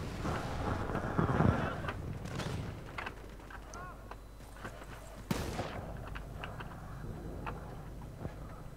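Gunfire in the multiplayer mode of the video game Medal of Honor (2010): a loud burst of shots and booms early on, then scattered sharp reports and one strong crack midway, over a busy battle background.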